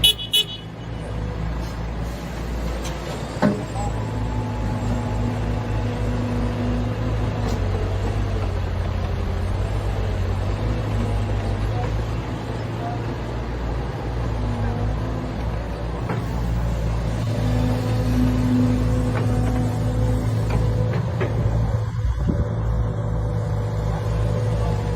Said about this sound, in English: I didn't show the trucks breaking ground at Herdad de Mayo